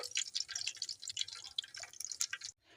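Chicken kebab patties fry in hot oil, a dense close crackle and sputter of bubbling grease that runs steadily before cutting off abruptly.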